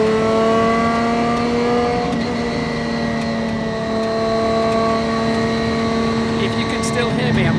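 Lancia Stratos engine, still being run in, revving hard under way, a loud continuous harmonic drone that rises and falls in pitch with the throttle from inside the car, with a voice talking over it.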